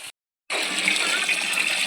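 Borewell water gushes into a storage tank in the morning. A brief gap of silence gives way to a loud, steady rushing pour heard up close with no voices.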